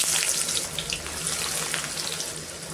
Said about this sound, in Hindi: इसी तेल पे ऐड कर देंगे प्याज